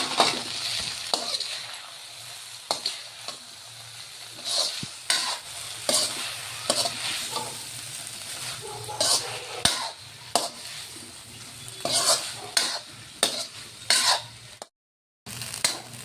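Chow mein noodles being stir-fried with sauces in a pan, sizzling steadily while repeated sharp scrapes and clacks of a utensil against the pan punctuate the frying.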